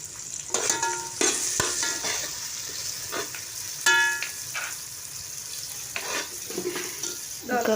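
Tomato pieces frying with chicken curry in a pan, a steady sizzle broken by repeated stirring scrapes and clinks of a utensil, with faint watery sounds, close and fairly quiet.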